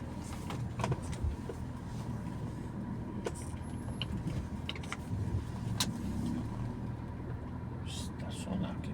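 A car engine idles and rumbles steadily at close range while the vehicle is maneuvered into a parking spot, with a few brief clicks and knocks over the low drone and people talking throughout.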